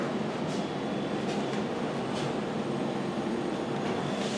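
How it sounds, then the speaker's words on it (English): A reassembled icemaker's compressor runs as a steady, fairly loud broadband drone close by, unbroken and without other sounds. "The compressor just kicked on."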